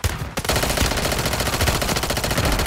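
Sustained automatic machine gun fire from Call of Duty Warzone Resurgence, loud and close, with rapid continuous bursts after a brief quiet opening, no talking.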